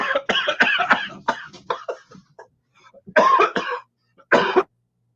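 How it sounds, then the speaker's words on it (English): A man coughs several times in short harsh bursts, a cluster early on, then two more a few seconds later, close to the microphone with gaps of quiet between. "I put that cough on mute"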